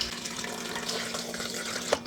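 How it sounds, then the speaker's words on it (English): Water pours steadily into a container of almonds when making almond milk, giving a close, continuous splashing trickle for a couple of seconds. "All right, so I pour in half."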